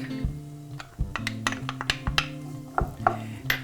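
Celery, onion and garlic drop into melted butter in a pan, bringing soft sizzling with clinks and scrapes of a utensil against the pan, close and fairly quiet.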